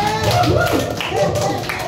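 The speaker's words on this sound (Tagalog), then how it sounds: "Pwede bang bigyan natin si Lord ng sapang malakas na palakpak?" A church crowd applauds loudly for about two seconds, a dense wash of many hands clapping at close range, with voices mixed in.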